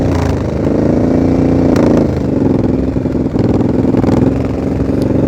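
A loud motorcycle engine runs steadily near at hand during a slow-speed riding practice session, holding a dense, even throttle with a few brief surges and dips and no talk over it.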